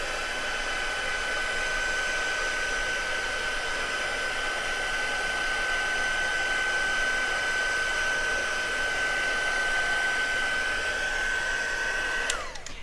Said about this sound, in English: Running the heat gun on the back like that gets rid of some of the curl.